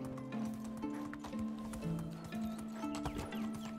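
Horse hooves clip-clop in a steady trotting rhythm in Medieval Dynasty, mixed with bright game music; close and continuous across the whole stretch, with no talk over it.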